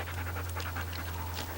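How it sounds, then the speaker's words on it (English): A couple of wolf dogs panting close by, a quick steady rhythm of breathy huffs over a low background hum, with no talking. "Couple of wolf dogs."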